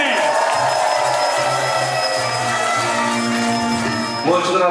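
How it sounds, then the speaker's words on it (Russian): Festival audience at a comedy show for older performers, clapping and cheering under bright stage music, a dense, sustained crowd sound with a voice rising near the end. "Аплодисменты!"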